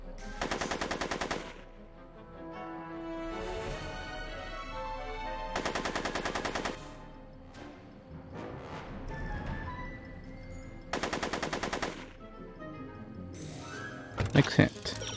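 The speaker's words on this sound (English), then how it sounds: "The cop can shoot." Video-game gunfire as a police officer shoots in a Back to the Future adventure game, three loud rapid bursts a few seconds apart, separated by music and horse sounds, with a final cluster of shots.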